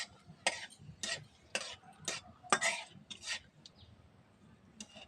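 Bay leaf, cardamom, black pepper and cinnamon stirred in hot oil in a pan: a quick series of crisp scraping and clinking spatula strokes over a faint sizzle, close up, with no voices.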